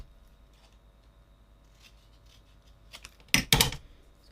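Scissors trim through a stacked paper pad in two quick, loud snips near the end, after a stretch of faint rustling in a quiet room.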